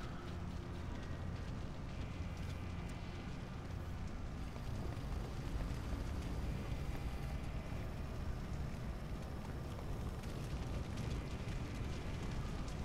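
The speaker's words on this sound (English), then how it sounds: "All you can hear is the fire," Fire and flames roar steadily in the video game Batman: Arkham Origins, a dense crackling, rumbling blaze filling the scene at an even level with no voices.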